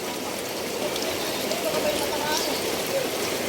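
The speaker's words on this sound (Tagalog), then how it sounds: "Ang lakas ng alon." Strong floodwater rushes and churns through a street on Don Manuel in Quezon City during a major flood, a steady broadband roar of flowing water with a voice faintly talking over it.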